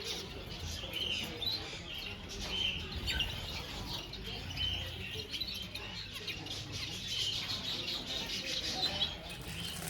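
Many small birds chirp and tweet continuously inside a pet shop, busy overlapping calls with some wing flutters over a steady indoor background hum, with no talking.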